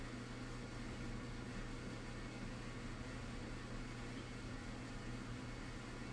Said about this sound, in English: there's my dryer